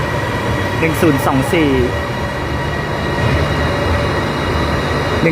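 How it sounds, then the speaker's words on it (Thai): An Airport Rail Link electric train, unit 1022, passes a railway level crossing on Rom Klao Road: steady rumbling rolling noise with brief squealing tones early on, while someone talks. "รถไฟฟ้าแอร์พอร์ตเรลลิงนะครับ 1022 นะครับ"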